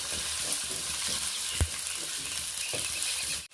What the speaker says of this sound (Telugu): ఉల్లిపాయ ముక్కలు వేసుకుంటున్నాను. సూపర్గా మంచిగా మగ్గించుకోవాలి.